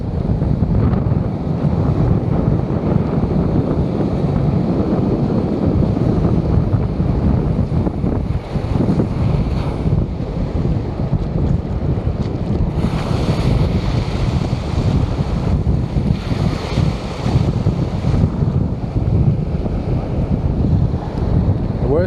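Surf rolls over rocks along a St Lucia fishing shore, a loud, continuous wash of waves roaring close by, heavily buffeted by wind noise on the microphone, with no voices.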